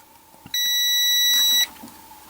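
Continuity beep from a multimeter while testing a shorted diode inside a Yamaha integrated amplifier: one steady high-pitched tone lasting about a second, clear and close, with no talking.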